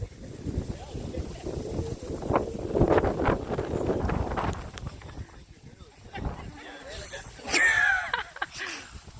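Gusty wind buffets an outdoor microphone on a windy Appalachian Trail mountain section near Dragons Tooth and McAfee Knob, a rumbling roar that swells and drops, with people talking over it.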